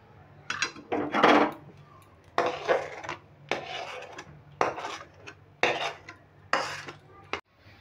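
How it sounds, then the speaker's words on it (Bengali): Metal spatula scrapes cooked kheer from the sides of a wok in repeated short, rasping strokes at a close, moderate level, with pauses between each scrape. "আর কড়াইয়ের চারপাশে যেগুলো লেগে আছে সেগুলো একদম চেঁচে নিয়ে নেব।"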